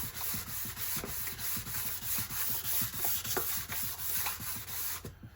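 Steady back-and-forth sanding of the cylinder head from a 460 big-block engine, rhythmic rasping strokes at a regular pace, close and continuous with no talking.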